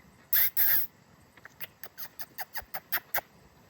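Pet birds calling indoors, two loud harsh calls followed by a quick run of about a dozen short, sharp chirps, close to the listener with no talking.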